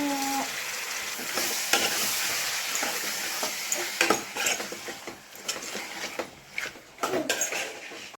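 Chicken pieces frying in a pan with onion, turmeric and ginger, a loud steady sizzle broken by repeated scraping and stirring clatter from close by.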